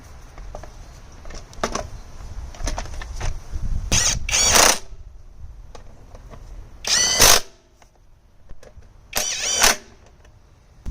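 Lawn mower carburetor cover refitted after carb cleaning, with screws driven in: light handling clatter, then three loud bursts of a power driver or ratchet, close and in the open, with no speech.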